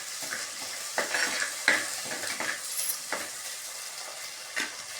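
Small shallots with dried red chillies and green chillies frying in a pan, giving a steady soft sizzle broken by several brief scraping stirs, close by and moderately quiet with no talk.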